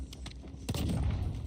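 Gunfire in Call of Duty Resurgence: a few quick muffled shots followed by a heavier booming burst, moderately loud over game ambience.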